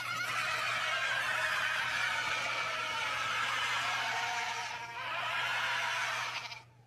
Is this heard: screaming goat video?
yes